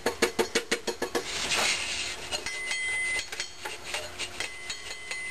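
Finely ground potassium nitrate is tipped from a container into a chemical mixing tub: a quick run of sharp, close knocks and clinks, then a brief soft rushing pour, followed by a few more scattered taps.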